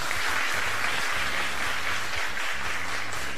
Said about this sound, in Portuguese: pode bater palmas